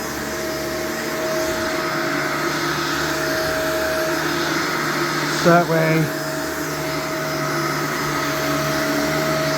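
A Shark Vertex vacuum cleaner runs with a steady, loud whirring drone throughout, used before shampooing, while a person briefly speaks over it.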